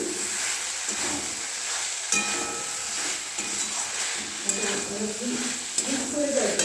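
Paneer pieces sizzling in a pan for chilli paneer while being stirred, with repeated scraping strokes over a continuous frying hiss, close and moderately loud.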